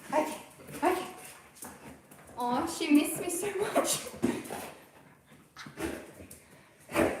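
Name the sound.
puppy whimpering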